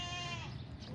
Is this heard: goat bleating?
yes